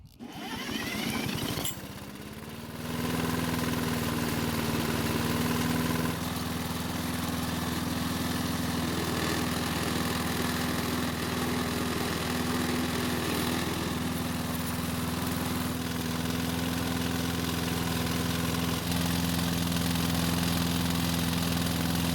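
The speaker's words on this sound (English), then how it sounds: "despite the engine's worn out condition, it still started and ran somewhat well" A worn-out Toro lawn mower's small engine sputters into life after a pull, then drones steadily at a constant idle with a buzzing hum, near and unbroken, no voices.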